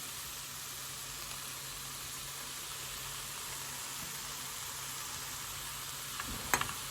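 Sweetheart cabbage frying in a pan gives a steady, soft hiss that holds evenly throughout, with a brief clatter near the end.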